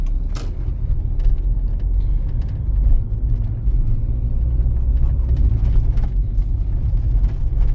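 Car pulling away from a green light and turning right on an exam driving route in Rivne, a steady low engine rumble with road noise throughout, no talk.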